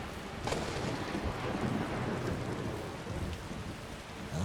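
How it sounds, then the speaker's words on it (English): Steady rainfall in the Skyrim video game, a constant hiss of drops on surfaces with no voices, moderately loud and even throughout. "Out here working in the rain."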